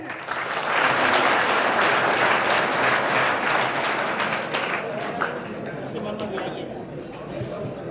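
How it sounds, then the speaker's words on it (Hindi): Steady audience applause for a student who stands up during a public address event, a dense, even wash of clapping that fills the hall for nearly eight seconds with a few voices mixed in. "तालियां इसके लिए"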